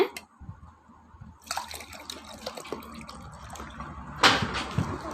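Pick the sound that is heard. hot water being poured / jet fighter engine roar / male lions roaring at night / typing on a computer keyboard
hot water being poured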